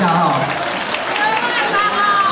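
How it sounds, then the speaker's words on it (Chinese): Brief burst of applause from an audience at a community dumpling-wrapping ceremony, steady clapping close and fairly loud, with a hint of crowd noise beneath. "大家来掌声一下哈"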